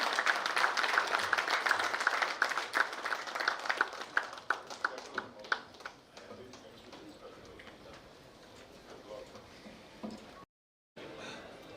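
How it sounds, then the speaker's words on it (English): An audience at an annual general function claps to welcome the chief guest, an Industries Minister, onto the dais; the applause is loud at first, thins into scattered claps and fades into quieter room noise. "Please give a bigger round of applause, ladies and gentlemen."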